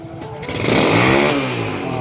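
A TMX155 motorcycle engine running on a swapped Barako 175 carburetor, heard up close as a loud, smooth, steady low idle that swells slightly and holds an even drone.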